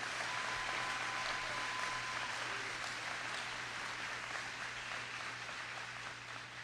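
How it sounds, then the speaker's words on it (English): Sustained applause from an audience at a Florida state government event, a dense, even wash of clapping that holds steady at moderate loudness for several seconds, fading slightly toward the end. "Let's give a round of applause for these two right here."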